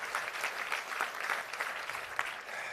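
An audience applauds at the Hudson Institute's Herman Kahn Award event, steady clapping from a room full of people that carries on alone throughout.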